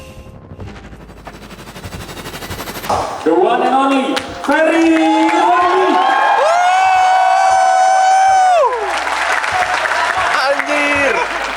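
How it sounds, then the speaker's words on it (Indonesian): Campus audience at ITB Bandung clapping and cheering as a speaker is introduced, loud crowd applause mixed with music and a voice over a sound system. "Tepuk tangan dulu dong."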